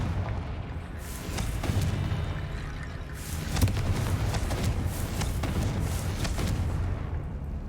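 A Confringo blasting curse in the Hogwarts Legacy video game sets off several booming explosions over a dense, rumbling background of game sound, with the sharpest blast landing midway through.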